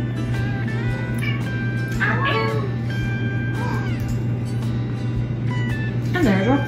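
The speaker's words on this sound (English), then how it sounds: "And there's our cat." A cat meows several times indoors, with short rising and falling calls spread across the stretch over a steady low hum, and people talking in between.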